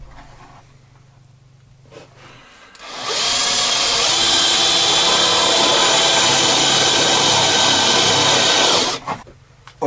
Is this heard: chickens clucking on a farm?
no